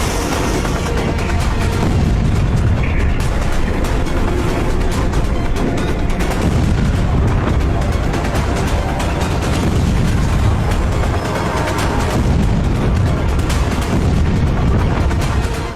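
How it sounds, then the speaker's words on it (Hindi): A massive, roaring ammonium nitrate explosion with deep booming rumble that stays loud and dense for the whole stretch, continuous crackling and thunder with no voices. "ये जोरदार धमाका"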